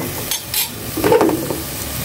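Food sautéing in a home kitchen pan, with a few quick scrapes and stirring bursts over a soft sizzle, close and fairly loud for a couple of seconds.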